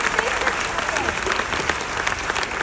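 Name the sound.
audience applause after magic trick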